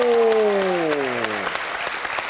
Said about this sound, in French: Très applaudi par toute la salle